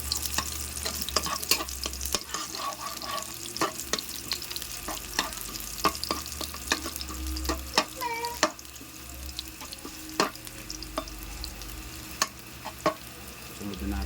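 Chopped garlic sizzles and crackles in a hot pan while bitter gourd (ampalaya) is being cooked, with frequent sharp clicks and taps of stirring against the pan over a steady frying hiss.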